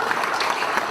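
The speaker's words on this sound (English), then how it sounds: "feel free to clap for all these people" Audience applause at an NYU School of Continuing and Professional Studies event: a steady, dense wash of clapping that fills the whole short moment at an even level.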